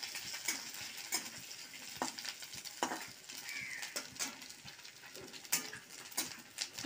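Grated coconut frying in a pan while being stirred, soft sizzling under intermittent scraping and tapping strokes of a spatula against the pan, close and fairly quiet.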